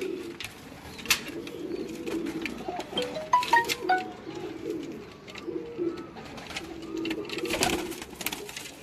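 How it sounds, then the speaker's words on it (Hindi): Pigeons from a loft on a rooftop in Multan coo softly and intermittently against steady background noise, with a few brief clicks and wing or foot sounds mixed in. "ये बेसिकली कबूतर जो उस्ताद सुहेल के घर के ही थे"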